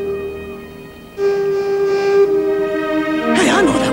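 A steady, horn-like tugboat whistle tone holds for several seconds, followed by a louder burst of wavering harmonics near the end, all over background noise.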